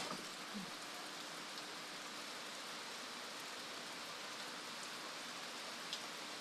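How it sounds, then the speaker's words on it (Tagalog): Steady rain falls continuously, a dense hiss of drops on surfaces with no voices. "Yan, ulan."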